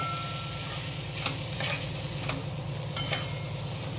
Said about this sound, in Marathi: आता आपण हे वांगे टाकू आणि चांगलं परतून घेऊ